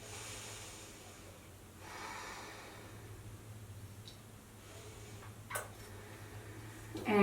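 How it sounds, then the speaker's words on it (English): Slow yoga breaths in a mother-and-child class, soft airy inhales and exhales heard faintly over a steady low hum, ending in a sharper snort-like breath. "Two more breaths."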